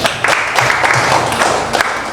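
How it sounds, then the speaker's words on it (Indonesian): Classroom applause for a student named Arin, a loud continuous wash of many small hands clapping together with scattered sharper claps standing out. "Tepuk tangan buat Arin."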